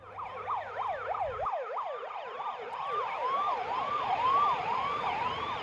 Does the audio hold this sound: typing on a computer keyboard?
no